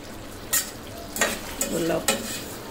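Chicken with salt is stirred in a frying pan over a soft sizzle, with four or five brisk scraping strokes close by and no talking.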